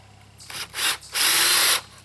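A power drill drives a lag bolt into pallet wood on a picket fence gate. Three close bursts of whirring: two short spins, then a longer sustained run before it cuts off.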